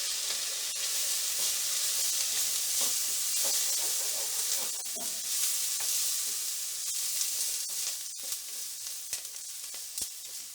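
Vegetables sizzle hard with a splash of vinegar over high heat for Di San Xian, a steady loud hiss with scattered sharp crackles and pops throughout.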